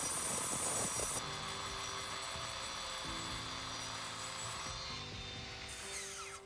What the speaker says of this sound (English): We've completed grinding out all the bed joints